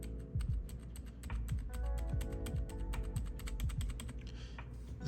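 Close, continuous typing on a modded budget gaming keyboard with pre-lubed mechanical switches, each keystroke a soft, muted clack as the stem bottoms out in the housing, a fast, even rhythm with no voices.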